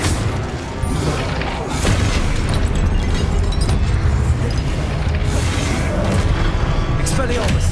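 Incendio fire spell cast in Hogwarts Legacy, a loud burst of roaring, crackling flame and booming impact layered with game effects and a voice, sustained across the whole stretch.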